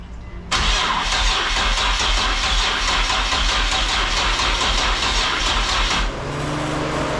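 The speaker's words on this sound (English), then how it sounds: "Keep trying to crank it." A car engine, freshly swapped for a turbo motor, cranks over with a steady rapid starter chug for several seconds, loud and close, then drops to a lower idle-like drone.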